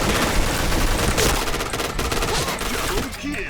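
Rapid automatic gunfire from the first-person shooter Point Blank, a dense, loud, continuous burst of shots that runs nearly the whole time, with bits of game noise mixed in.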